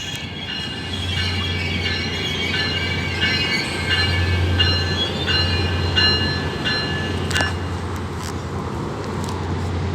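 A passenger train stands at Point Pleasant Beach station on a cold day, its engine rumbling low and steady with repeated high squeals and clanks of the railcars and wheels, loud and close throughout.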